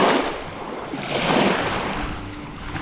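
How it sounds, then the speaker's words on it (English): A water taxi boat comes in across Lake Tarawera near a hot spring, heard as a faint engine drone under steady lapping water and wind noise on the microphone. "I think that's our water taxi coming in there."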